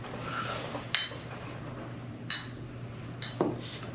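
Glasses of London Dry Gin clink together in a toast at a gin tasting, three short bright chimes spaced apart against a quiet room hum.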